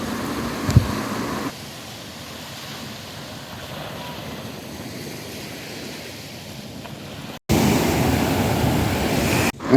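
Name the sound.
sea waves washing sand away at Varkala beach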